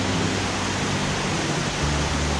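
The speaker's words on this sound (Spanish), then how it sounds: "Estamos escuchando ahí al fondo la cascada." The El Limo waterfall roars steadily in the background beside a river, a constant, even wash of rushing water with no voices over it.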